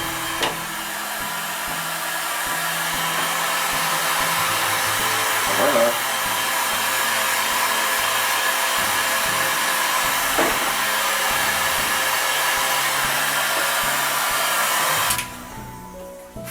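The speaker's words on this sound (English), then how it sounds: "Just heat it up a little bit until it gets soft." A hot air heat gun blows steadily to soften PVC pipe for a bow, a loud, even whooshing drone that runs for about fifteen seconds before cutting off abruptly.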